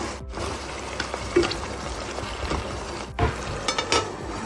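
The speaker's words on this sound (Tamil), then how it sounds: "இதை அப்படி நம்ம ஒரு வாட்டி கிளறி விடணும்" Spiced mutton masala, with salt, turmeric, chilli and coriander powder, is stirred in a hot pan, giving a steady sizzle with a few sharp scrapes and clinks of the spoon against the metal.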